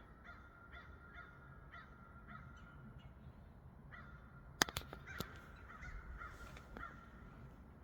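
Crows caw repeatedly at a distance across an open field on a warm morning, a regular series of calls followed by a few sharp clicks and scattered later caws.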